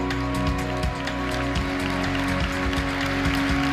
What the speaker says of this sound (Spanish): un fuerte aplauso para el Club Polideportivo Mijas